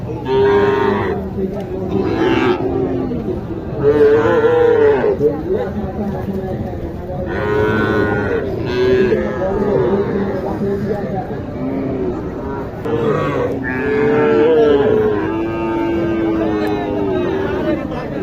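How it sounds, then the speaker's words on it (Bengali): Sahiwal and improved-breed bull calves mooing repeatedly at a busy cattle market, loud and close, with crowd chatter in the background. "আমি আজকে আপনাদের এই হাট থেকে কিছু শাহিওয়াল এবং উন্নত জাতের কিছু ষাঁড় বাছুর দেখানোর চেষ্টা করব"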